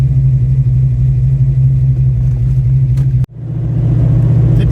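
Fox Body Mustang with FlowMaster 50 Series mufflers idling, heard from inside the car with windows up, a loud steady low exhaust drone that briefly cuts out and then swells back to its deep rumble.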